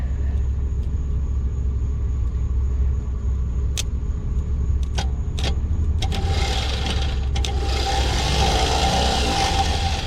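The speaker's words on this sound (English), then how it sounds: "the starter's spinning over" Continuous mechanical whir and rumble of a starter cranking the engine of an OBS Chevy Blazer, steady throughout with a few sharp clicks and a rising broadband hiss late on.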